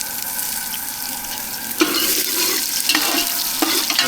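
Onion and garlic sizzle in hot oil in a pot over an outdoor gas flame, a steady close frying hiss that jumps louder midway as more goes in, with a few stirring scrapes and no talk.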